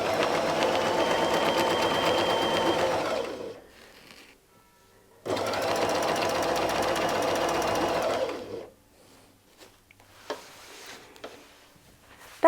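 A sewing machine quilting with a circle ruler runs in two sustained bursts of rapid, even stitching, each several seconds long, separated by quiet pauses with faint handling clicks.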